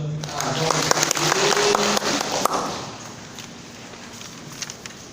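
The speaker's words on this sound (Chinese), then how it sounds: "以热烈掌声啊，欢迎小分讲师号" A lecture-hall audience claps to welcome a lecturer, a short burst of scattered applause under a speaking voice that fades out after a few seconds.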